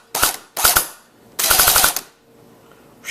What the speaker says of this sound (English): Sounds like we're shooting fine.